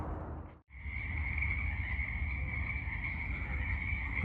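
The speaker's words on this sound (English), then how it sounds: "Listen to that wonderful frog sound." A frog croaks in a steady, sustained trill outdoors, loud and close, continuing alone after a brief break at the start.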